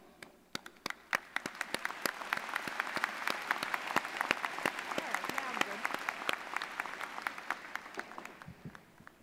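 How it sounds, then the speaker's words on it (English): A large crowd applauds engineering graduates at a university commencement, crisp claps steady for the whole stretch, with voices faintly mixed under the clapping. "we join your family and friends in applauding you"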